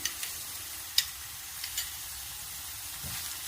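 Coconut sweet mixture being stirred in a pan after milk powder is added, a soft steady sizzle with a few faint scraping clicks, quiet and close, no talking.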